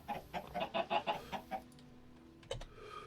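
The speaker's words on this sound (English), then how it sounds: "I want to mute these damn chickens." Chickens in the Minecraft Sky Factory 4 modpack cluck in a rapid, rhythmic series of short calls at moderate volume, followed by a pause and a couple of sharper squawks near the end.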